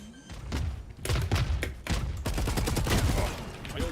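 Missiles launching and exploding in a Valorant-style first-person shooter game, a dense run of heavy thumps and blasts that carries on loud and close for about four seconds.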